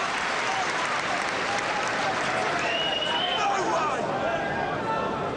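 A football crowd at an FA Cup fifth-round match between Luton Town and Millwall applauds in a steady, dense wash of clapping that fills the stadium throughout, with a commentator talking over it.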